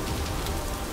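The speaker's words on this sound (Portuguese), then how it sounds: "A chuva tá muito forte." Heavy rain pours down in a dense, loud, steady hiss with no voices over it.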